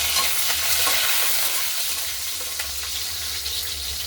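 Peanuts, green chillies and curry leaves sizzle steadily in hot oil for a tempering, a continuous close frying hiss with faint stirring, no talking.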